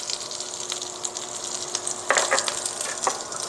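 Seafood frying in melted butter with lemon zest and parsley sizzles steadily in a pan, with a few louder scraping stirs and clinks of the utensil near the end; no voices.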